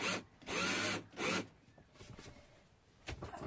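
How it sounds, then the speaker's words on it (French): A cordless power screwdriver driving a screw into a wooden batten during a DIY van conversion, two short whirring bursts close up followed by quieter handling noise and a final brief burst. "je peux visser ma vis dans le tasseau"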